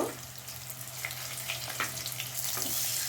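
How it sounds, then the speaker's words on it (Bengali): Cabbage and egg pakoras sizzle in hot oil after being flipped, a continuous close frying crackle with small bubbling pops and a low steady hum underneath. "এক পাশটা হয়ে আসলে আমরা এখন এই পাশটা উল্টিয়ে দিব। 1 মিনিটের মতো ভেজে নিব।"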